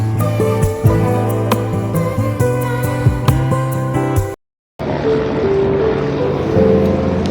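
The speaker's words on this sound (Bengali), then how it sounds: "সামনে দিয়ে উড়ে যাচ্ছে হেলিকপ্টার, একটা যাচ্ছে, একটা যাচ্ছে, হেলিকপ্টার আসছে।" A helicopter near Kedarnath passes by with a steady droning engine and rotor sound, loud and continuous, dropping out briefly before resuming with broader roaring noise.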